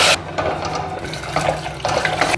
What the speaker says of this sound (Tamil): ஸோ அடுத்தது தேவையான அளவு தண்ணியை சேர்த்துக்கலாம்.